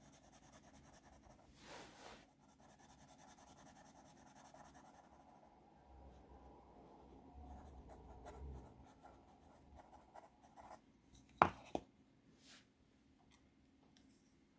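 A Statesmen 800 vintage pencil writes smoothly on paper, giving a soft, continuous scratching rasp with a few brief louder taps near the end, heard alone and close.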